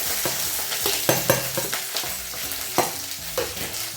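Dried red chillies and grated coconut fry and sizzle in a pan for a Kerala dried prawn chammanthi, with a spatula stirring and scraping in quick, repeated strokes throughout.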